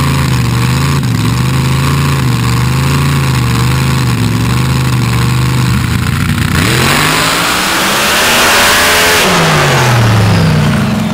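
A dirt drag racing car idles loudly with a steady engine drone, then launches hard into a roaring, rising rev as it accelerates down the dirt track, the noise building to a harsh full-throttle scream.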